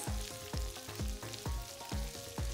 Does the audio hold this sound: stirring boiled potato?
yes